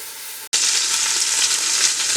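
Garlic, chopped onion, a vegetable brunoise and a rosemary sprig go into a casserole: a brief hush, then a sudden loud sizzle that holds as a close, steady hiss of frying.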